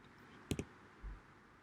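Two quick, sharp clicks of a key pressed on a computer keyboard, close and distinct, followed by a soft low thump against faint background hiss.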